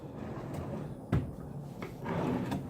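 A dresser drawer in a hotel room slides open or shut with a short wooden knock and a rustling scrape, faint against quiet room noise.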